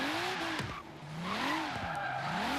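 Tires skid and squeal as a Volvo 850R drifts in Forza Horizon 3, a wavering tonal screech rising and falling in long sweeps over steady engine drone, loud and continuous with a brief dip midway.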